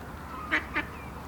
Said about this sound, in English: Hopefully get some ducks in the picture too.